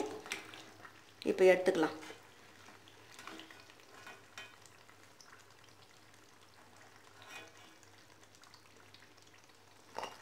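Kai suruL snack frying in hot oil, a soft steady sizzle that fades as it settles, with a brief louder stir early on and a person speaking over it.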